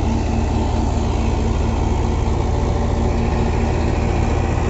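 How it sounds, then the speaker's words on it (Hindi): A Mahindra 575 DI XP 45 HP four-cylinder tractor drives a Surya thresher during wheat threshing, its engine droning loud and close with a steady, unchanging hum and no voices. "ये Mahindra 575 DI XP 45 HP tractor 4 cylinder में है, जो इससे चला जा रहा है।"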